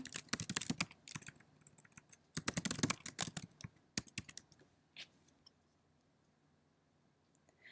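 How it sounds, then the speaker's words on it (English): A signature being typed on a computer keyboard into an e-consent form: quick clustered bursts of key clicks, then a few sparse taps trailing off into quiet. "So we're going to choose to type the signature here."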